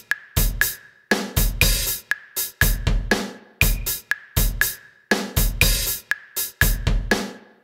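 A drum sequence built from four basic drum samples on sampler pads plays as a crisp, looping groove of sharp kick, snare and hi-hat hits in a steady, repeating rhythm, with no one talking.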